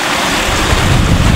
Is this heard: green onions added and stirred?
no